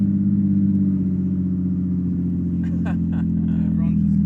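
A naturally aspirated Barra engine with its exhaust snapped from the headers back, so it runs effectively straight-piped, gives a loud, steady, deep rumble throughout. Voices briefly break in partway through.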